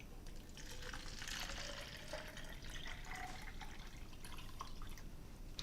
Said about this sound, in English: So the first thing we do is fill up our hatchery with water.